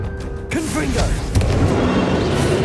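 A Confringo blasting spell in Hogwarts Legacy goes off as a sharp burst followed by a crackling, rumbling explosion that holds for a couple of seconds over game ambience, with a voice briefly heard at the start.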